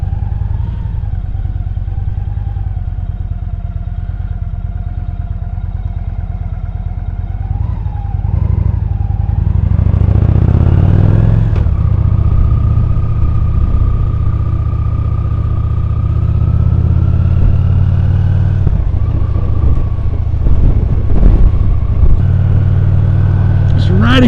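Motorcycle engine running while riding on local roads with roundabouts in spring, a steady low drone that rises as the bike accelerates partway through, with wind rush and someone talking over it.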